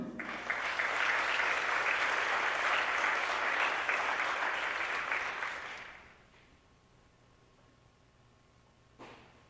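A crowd at a board of education meeting applauds loudly and steadily for several seconds, then the clapping fades out, leaving a quiet room with one brief knock near the end.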